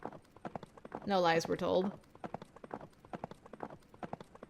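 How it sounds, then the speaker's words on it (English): Hooves clip-clop steadily on an unpaved road in a video game, a close rhythmic patter running the whole way. Partway through, a horse snorts or whinnies briefly, and a voice speaks over the hoofbeats. "I pushed the horse onward,"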